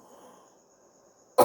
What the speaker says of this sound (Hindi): ट्रांसफॉर्मेशन का जब टॉपिक आया एकदम खांसी आ गई।